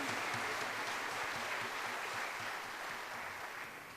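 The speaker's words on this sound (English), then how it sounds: "Can we give her a round of applause?" Crowd applause for a mariachi singer fills the room, a dense steady wash of clapping that holds throughout and thins a little toward the end, with no voices over it.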